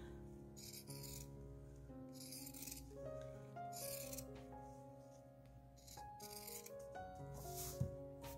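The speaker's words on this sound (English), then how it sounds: "I'm using my pinking shears" Pinking shears cutting around the edges of weaver's cloth fabric, giving a series of short rasping snips and rattles set against steady tonal background music.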